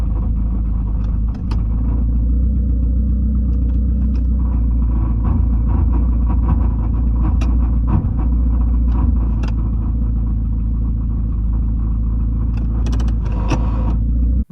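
A 1988-1992 Toyota Corolla with a failing A131L automatic transmission drives while shifting gears, a loud steady cabin rumble of engine and road noise with faint mechanical clunks and rattles throughout.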